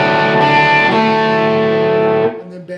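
Distorted electric guitar with the volume backed off slightly, strumming a chord pattern from a song lesson, ringing steadily and loud before cutting off near the end, with no voice over it.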